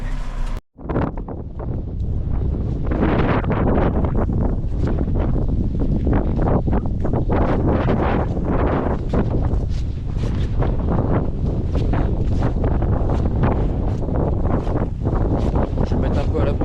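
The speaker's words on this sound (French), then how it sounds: "Je vais mettre un peu à l'abri du vent." Strong wind buffets the microphone in an open leek field during harvest, a steady loud roar of gusts and rumble running nearly throughout after a brief dropout at the start.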